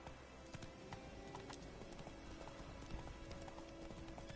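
Steady clip-clop of Geralt's horse Roach trotting in The Witcher 3, hoofbeats close and regular over a constant background bed, with no talking.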